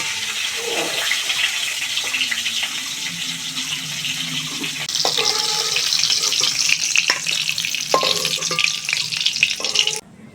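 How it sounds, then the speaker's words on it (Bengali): Cauliflower frying in oil in a home kitchen, a steady loud sizzle and crackle that intensifies midway, with a few metallic clinks of utensils before cutting off abruptly at the end. "ফুলকপিটা লাল লাল করে ভেজে নিয়েছি,"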